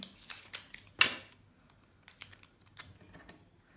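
Small piece of tape being pulled from a roll and torn off for a stencil-and-charcoal art project: a few sharp, close crackling rips and snaps with quieter handling rustles between, no voices.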